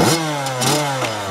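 A Yamaha YZ85 two-stroke dirt bike engine that won't idle is kept running with blips of throttle, a loud, close buzzing rev that rises and falls briefly.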